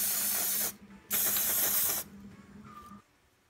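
A spray can coats a small homemade plastic pot, giving two bursts of hissing spray close by, each lasting about half a second to a second, with a quieter pause between them and a faint tail afterwards.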